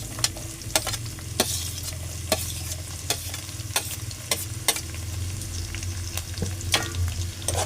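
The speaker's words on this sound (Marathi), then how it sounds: "आता टोमॅटो आणि कांदा पण आपण त्याच्यात लगेच टाकून घेऊ" Chopped tomato and onion sauté in a hot pan with a constant sizzle, punctuated by regular sharp spatula scrapes and clicks roughly every half second, close and with no speech.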